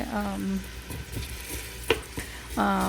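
Chopped onion and green chili fry in hot oil in a home kitchen, a steady close sizzle with a few stirring scrapes and clinks, while a voice speaks briefly over it at the start and end.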